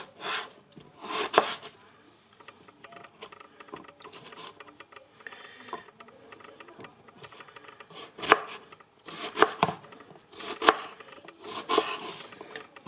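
Repeated knife strokes thud on a cutting board while cubing eggplant, uneven at first and then a quicker series of firm chops, close and fairly loud.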